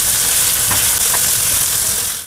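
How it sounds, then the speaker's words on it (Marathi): Onions roast in a pan for chicken masala, a loud, close, continuous sizzle broken by a couple of brief stirring scrapes, with no talking. "कांदा थोडासा लालसर होईपर्यंत भाजून घ्यायचा व्यवस्थित."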